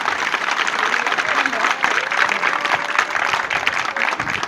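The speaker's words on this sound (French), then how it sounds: "on entend vos applaudissements." Steady applause from an audience at a speech event, a dense continuous wash of clapping lasting throughout with no distinct individual claps standing out.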